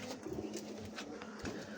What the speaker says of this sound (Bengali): আর এইটা হলো সাদা আর লাল রাজগোল্লা, এটা ডিমে বসছে